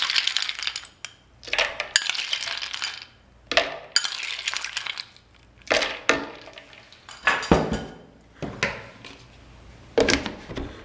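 Ice cubes dropped into a jug of watermelon juice with black salt, a series of sharp clinking and clattering hits in irregular bursts, close and fairly loud.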